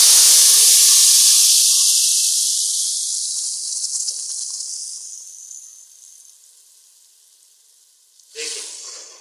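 A blended paste of tomato, onion, green chili and coriander hits a hot pan for chicken kabab handi masala, giving a loud, close sizzle and hiss that slowly dies down, then a brief fresh burst of sizzling near the end.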